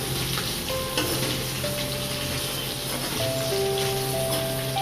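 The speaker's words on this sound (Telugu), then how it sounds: "చికెన్ కూడా ఫ్రై అయిపోయింది" Chicken pieces for biryani fry in a pan with a constant, dense sizzle and crackle, close and steady for a few seconds with no talking.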